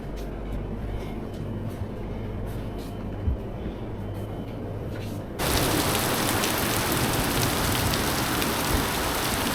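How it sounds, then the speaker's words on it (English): Heavy rain pours down at night on a campsite, a steady dense hiss that swells sharply louder about halfway through into a full, close downpour drumming on surfaces. "It's 2 o'clock in the morning and we have a beautiful downpour."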